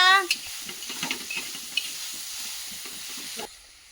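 Umbar figs being stir-fried in a pan, with a bright sizzle at first that settles into a steady hiss broken by scraping stir strokes, cutting off near the end.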